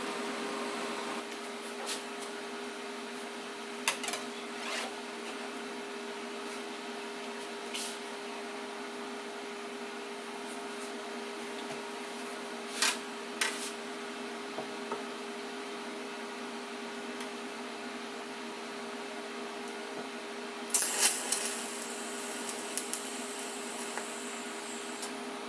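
A TIG welder runs on panel steel at 48 amps with a steady, even electrical hum and hiss, broken by a few faint clicks and a brief louder crackle near the end.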